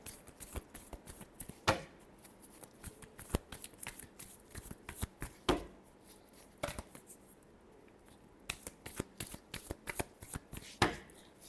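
Tarot cards shuffled by hand, close and quiet: a steady run of crisp riffling slaps and flicks, several sharper snaps standing out, with no talk over it.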